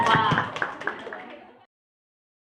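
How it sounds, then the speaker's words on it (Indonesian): Schoolchildren at a primary school classroom event clap together in a loud, dense burst of applause mixed with excited voices, ending abruptly after about a second and a half. "Ya, tepuk tangan buat kita semua."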